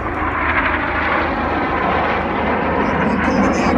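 Red Arrows jet aircraft at the Midlands Air Festival, a loud, continuous roar passing overhead, under a commentator's voice.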